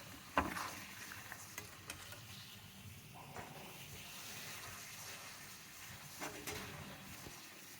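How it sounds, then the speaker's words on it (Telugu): Peanut pakoda frying in oil on a medium flame gives a soft, steady sizzle and bubbling, with a few brief louder clinks or stirs early and late; no one talks. "మీడియం ఫ్లేమ్లో వేయించుకోవాలండి."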